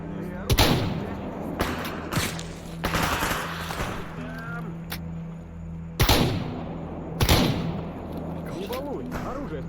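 A Toz-34 shotgun loaded with slug rounds fires in the Stalker game: several loud, sharp blasts with gaps between them, each trailing a short echo, while voices talk in between.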